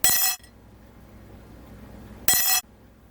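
Two bright metallic clinks, small model ship parts dropping into little metal tins, about two seconds apart, in a quiet room.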